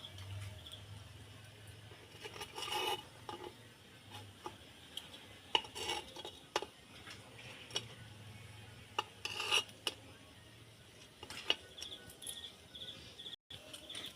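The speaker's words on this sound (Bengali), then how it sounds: "চামচের পিছনটা দিয়ে তুলে নেব" Back of a spoon scraping and lifting khola pitha off a pan, a run of light metallic scrapes and clinks, irregular and close, over a faint steady background hum.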